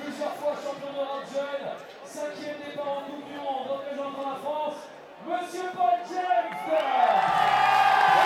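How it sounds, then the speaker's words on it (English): Spectators at the IFSC Lead World Cup final in Chamonix cheer and whoop as a climber is introduced, loud overlapping yells from a large outdoor crowd swelling and dipping, with a voice speaking over it. "you can hear by the crowd's reaction"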